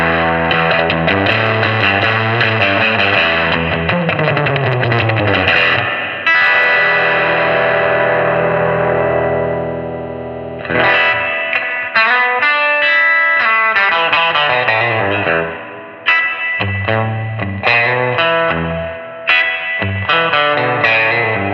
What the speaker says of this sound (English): Let's see how big this reverb gets.